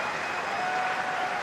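A rugby crowd at Ulster versus Ospreys applauding a kick by Aidan Morgan, a dense, sustained wash of clapping and crowd noise from a large stadium audience, heard at a distance.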